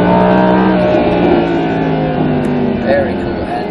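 An Audi accelerates hard on a performance race track as the driver gets back on the gas coming out of a turn, its engine droning loud and close, with a voice speaking over it.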